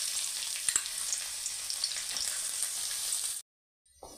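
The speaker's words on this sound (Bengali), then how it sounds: "রসুনটা হালকা ভাজা হয়ে গেছে" Chopped garlic frying in two tablespoons of hot white oil in a kadai, a continuous bright sizzle with a few crackling pops, fairly close and alone, stopping abruptly near the end.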